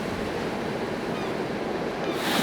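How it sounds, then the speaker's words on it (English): Steady rushing wind and breaking water around a sailboat moving at about 6 knots under a 9-knot beam wind, a continuous broad roar that swells slightly louder at the end, with no voices. "The wind's blowing 9 knots right on our beam, so it is just really nice sailing right now"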